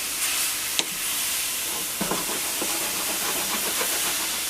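Ground sausage sizzles in a non-stick skillet with no oil, fat or butter, giving a loud, steady hiss near the mic with a few clicks and spatula scrapes, no voices.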